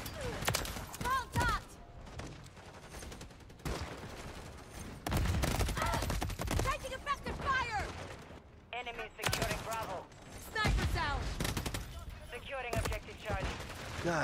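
Bursts of turret gunfire rattle in irregular volleys through a video game firefight, with a voice talking in between the shots.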